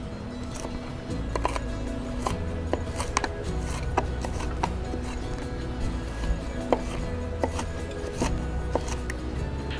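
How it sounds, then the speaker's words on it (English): A knife chops an onion on a cutting board at an outdoor grill, giving a series of quiet, irregular cuts and taps over a low background hum. "I'm gonna cut my onion now"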